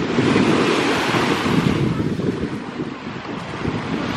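Sea waves break on a Sardinian shore in a steady, loud wash of surf, with wind buffeting the microphone throughout and no voices.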